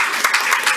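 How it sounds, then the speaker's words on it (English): A brief, sustained burst of crowd clapping, loud and close, with no pause in the sound. "please give yourselves a round of applause for coming out tonight"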